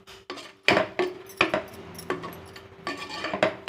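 Biriyani masala and chilli powder being sautéed in a pan for chickpea biriyani, with a utensil scraping and clinking against the metal in irregular, close strikes, quiet sizzling faintly underneath.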